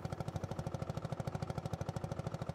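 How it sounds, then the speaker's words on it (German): Lanz D4016 tractor with a 4.2-litre single-cylinder engine and roll bar, built 1957–1960 and heard in Farming Simulator 22, idling with a steady, even thumping pulse that is fairly faint and heard alone. "Das ist dieses typische Geräusch. Das ist der D4016 mit Überrollbügel."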